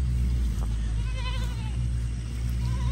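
A goat bleats a few times at a farmyard during rainy season, wavering calls sounding moderately close over a constant low rumble of wind or rain.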